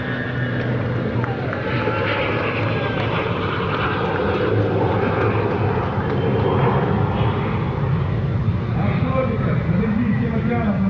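A twin-engined M55 Mystic B high-altitude aircraft drones steadily with a continuous engine roar, loud and unbroken, while someone narrates over it throughout.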